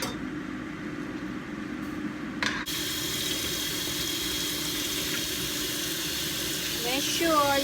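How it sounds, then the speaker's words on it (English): Cold tap water runs steadily over boiled rice noodles in a kitchen sink, a continuous close splashing stream with a brief clatter partway through. "Make sure you run it under cold water to stop the cooking of the noodle."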